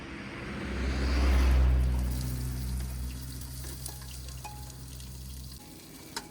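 Onions hit a pan on a camping stove at a roadside stop in Kargil, Ladakh, with a swelling hiss of frying that settles into a steady sizzle over a low engine-like hum.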